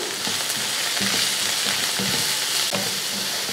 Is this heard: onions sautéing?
yes